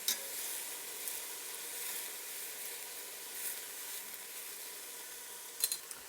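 Onions sizzling as they cook in a pan, a soft, even hiss of frying with a few faint stirring clicks near the end, quiet and close.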